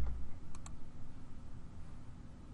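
Quiet computer keyboard typing, a few soft clicks close together over a faint background hum, with no voices.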